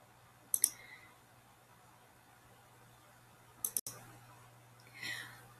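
Computer mouse clicks while setting up a Weebly portfolio site: two short, quiet click clusters several seconds apart, the second a quick double, over a faint steady room hum with no talking.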